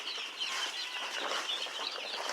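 Young meat chickens clucking in a flock of about 800 birds raised for sale, a steady busy chorus of overlapping clucks and chirps close by, with no talking.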